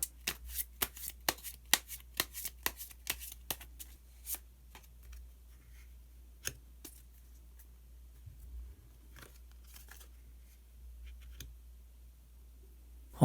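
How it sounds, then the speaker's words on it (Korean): Tarot cards are shuffled in a quick run of crisp riffles and snaps, then a card is drawn, and soft, sparse handling clicks follow in a quiet room. "그럼 추가로 히든 카드 한 장 더 뽑아보도록 하겠습니다."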